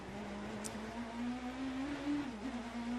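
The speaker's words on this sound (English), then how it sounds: "Listen to that BMW engine working" BMW race car engine at the Sebring 12 Hours endurance race, a steady, faint, distant drone that holds a sustained note with a slight pitch rise near the end, with no talk.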